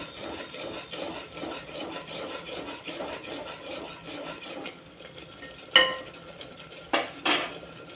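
Steady rhythmic scraping of a utensil against a pan as a paneer mixture is stirred without water, followed by a few sharper clinks and knocks against the pan.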